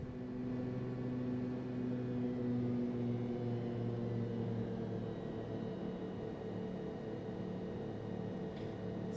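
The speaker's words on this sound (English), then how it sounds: "This is a low bypass engine." A low-bypass jet engine during thrust reduction, a steady droning roar with layered low hums and whining tones, holding loud and continuous throughout with no voices.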